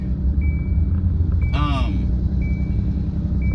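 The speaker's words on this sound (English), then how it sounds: "this doggone heavy duty truck that's literally what it's in the back is in front of me making all this noise" Heavy duty truck idling nearby, a continuous low engine rumble throughout, with a brief whining swell in the middle and a faint intermittent high tone coming and going.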